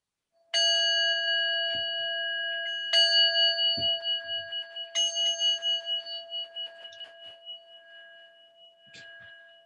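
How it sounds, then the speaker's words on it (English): A meditation bell is struck three times to open a guided session, each clear ring hanging and fading slowly with a gentle pulsing shimmer, followed by a faint softer tap near the end in an otherwise quiet room. "I'm gonna just ring a bell to start us off."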